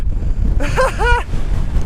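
Strong gusty wind on the Isle of Skye near the Old Man of Storr, roaring and buffeting close against the microphone, with a brief vocal sound partway through.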